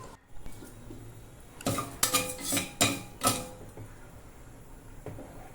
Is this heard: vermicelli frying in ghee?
yes